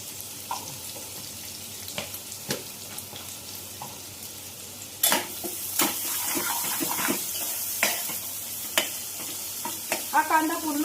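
Onion sizzling and being stirred in a pan of masala paste for Malvani prawn gravy, a steady frying hiss broken by scraping spoon strokes that grow louder and busier halfway through, with no talk.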